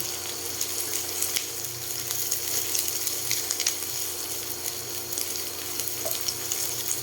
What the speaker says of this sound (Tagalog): habang piniprito pa natin yung mga kikiam natin, saka squid ball